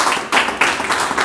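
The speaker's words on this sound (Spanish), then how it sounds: "Y le damos un fuerte aplauso a todos" An audience claps for a youth symphonic choir: brisk, dense applause close by, in steady bursts.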